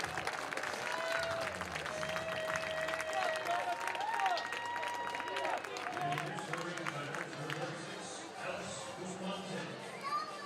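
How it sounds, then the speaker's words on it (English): Crowd at a baseball game between the Oakland Ballers and the Flathead team gives a standing ovation to a departing pitcher, steady applause and cheering through the whole stretch with loud chatter mixed in, easing slightly toward the end. "Will leave to a standing ovation and a good applause from many of the Flathead faithful."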